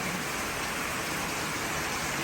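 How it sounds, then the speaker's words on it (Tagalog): Heavy rain in a rural province pours down as a dense, steady hiss that stays constant and loud throughout, with no talk. "lakas ng ulan"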